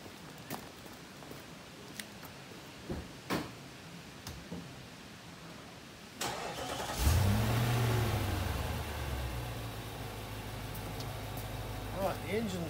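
After some handling knocks and thumps, a car engine cranks and fires up at about six seconds, then settles into a steady idle hum that runs to the end.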